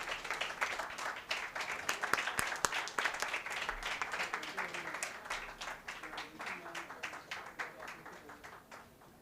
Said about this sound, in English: A big round of applause for IPS Vaibhav Nimbalkar.